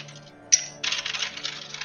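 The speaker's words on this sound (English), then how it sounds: "It's another drink being made with ice." Ice clinking and rattling in a glass as a drink is made, a sharp bright clink followed by a jumble of rattles, close and loud.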